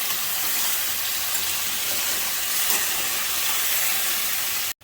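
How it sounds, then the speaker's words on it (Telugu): Chicken pieces fry in hot oil with a dense, even hiss that holds loud and unbroken for several seconds, close up, then cuts off abruptly at the end. "కొంచెంసేపు ఆయిల్లో ఉడకనివ్వాలి."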